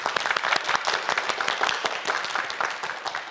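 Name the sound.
audience applause on a TV quiz show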